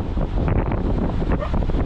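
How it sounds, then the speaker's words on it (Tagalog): Strong typhoon wind roars and buffets against the microphone in a continuous loud rush at a campsite, with no voices. "Grabe lakas ng hangin."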